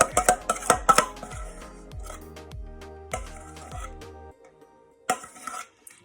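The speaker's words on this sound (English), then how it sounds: "You do need to scrape around the edges." Thick vegan strawberry cheesecake mixture scraped around the edges of a bowl, a series of sharp clinks and knocks of a utensil against the bowl, close and alone with pauses between.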